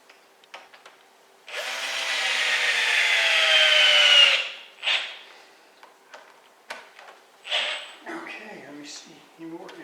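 Torx head screws being driven into the center of a red oak platter: one steady whirring, grinding burst of about three seconds, then scattered short knocks and clicks nearby.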